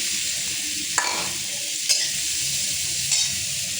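Butter, dried chilli and chopped onion sizzle steadily in a pan, a bright continuous frying hiss punctuated by three soft stirring scrapes, close and moderately loud.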